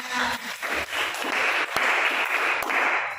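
A classroom of students at a teacher-training lesson in Medan applauding together, a dense steady wash of many hands clapping for several seconds, fairly close and loud.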